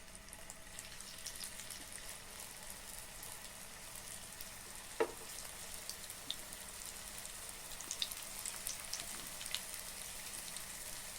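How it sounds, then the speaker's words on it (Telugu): Vegetable chapati rolls shallow-frying in a little oil in a pan, a steady faint sizzle like light rain, with one or two small pops and no voices. "అదే పాన్లో కొద్దిగా ఆయిల్ వేసుకొని వాటిని ఫ్రై చేసుకోవాలి"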